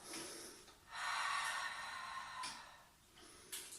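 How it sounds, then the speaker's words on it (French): Breathing sounds during a Pilates session on a chair, with a few audible breaths and exhales rising and falling close to the mic, no talk. "Écoute ta respiration"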